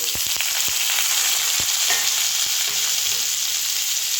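Cauliflower florets and two pieces of cinnamon stick sizzle in hot oil for a vegetarian cauliflower roast, a loud continuous frying hiss broken by a few sharp clinks of a spoon stirring the pan.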